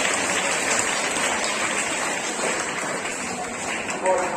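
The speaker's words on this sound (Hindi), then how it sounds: "एक बार आप अपने लिए जोरदार तालियां बजाओ बच्चों" Loud, sustained clapping from a large group of schoolchildren at an Independence Day event, dense and continuous with a slight swell near the end.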